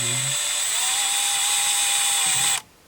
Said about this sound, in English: You drill in just like that.